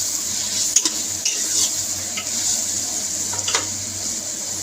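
Potatoes frying in a pan with a steady, even sizzle and hiss, broken by a few light scrapes and knocks of a utensil, moderately close and free of talk.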